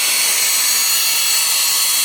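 A steady, high-pitched electric handheld mixer whines and whirs continuously at close range, mixing peanut butter chocolate fudge without pause.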